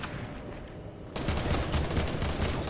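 Rapid gunfire rattles out in a video game match, quieter at first and then erupting into a loud, sustained burst of overlapping shots.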